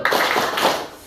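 A standing group of students and teachers in a classroom claps together in a short 'tepuk salut' chant, giving a quick burst of close, rhythmic clapping that lasts about a second.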